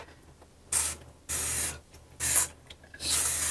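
Four quick hissing sprays from a trigger bottle, each about half a second, evenly spaced and close up.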